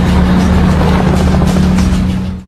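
A heavily armed, weaponized Doom Truck rolls into an arena with a loud, continuous engine roar and steady low drone, ending abruptly.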